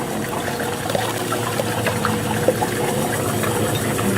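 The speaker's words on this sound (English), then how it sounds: "go look in the sink, make sure the water's flowing" Cooling water running from an ice cream machine into a sink, a steady close pouring and trickling with small splashes, moderately loud, no talking.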